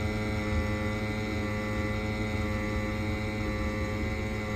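An Ideal Logic combi gas boiler runs on high fire in service mode, giving a steady, continuous hum with a broad rushing burner noise, even and unbroken throughout, with no talk.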